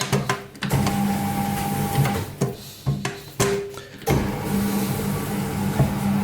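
A dough sheeter rolling puff pastry whirs and hums steadily, broken by several short stops and restarts as the rollers are adjusted, loud and close.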